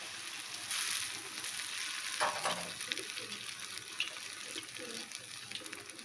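Ghevar batter frying in hot ghee, a steady broadband sizzle with bubbling and a brief splashy pour of more batter in the middle, close and continuous with no talking.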